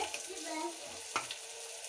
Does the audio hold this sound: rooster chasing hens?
no